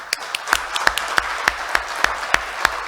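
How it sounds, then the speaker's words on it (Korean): Audience applause at an architects' association election candidate debate in a hall: a small group clapping in a sparse, steady rhythm of sharp individual claps, fairly close and without talk. "다시 한번 큰 박수 부탁드립니다"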